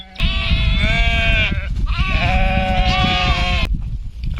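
Sheep and lambs bleat loudly and close by at a village farm, in two long, wavering cries that overlap and run almost without a break, over low rustling background noise.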